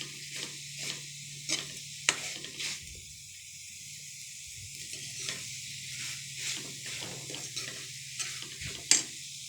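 Spice powder fries in oil in a pan for tomato palya, a steady soft sizzle and hiss with a low simmering hum, broken by repeated scraping stirs of a spoon against the pan.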